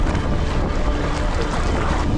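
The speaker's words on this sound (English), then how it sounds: "It's so windy." Strong wind roars steadily across the microphone over open water, a constant dense rush with faint water movement underneath and no talking.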